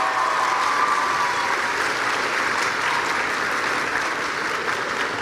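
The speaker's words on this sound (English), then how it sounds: "Please give a round of applause" Audience applause at an Atlanta school event fills the space with dense, even clapping from a large crowd, steady and fairly loud for about five seconds without a break.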